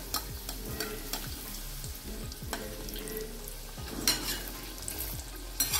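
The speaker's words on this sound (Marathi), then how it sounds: "क्रिस्पी रोल अशा प्रकारे तळून घ्यायचे." Veg crispy rolls deep frying in hot oil, a steady bubbling sizzle with soft scattered crackles, fairly quiet and even throughout, no voices.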